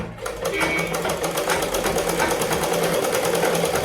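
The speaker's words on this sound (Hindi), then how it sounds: "तो चलिए मैं सिलाई कर लेती हूँ।" An aging sewing machine stitches the edge of a salwar, running in a steady rapid mechanical clatter with a constant whirring hum, close and loud throughout.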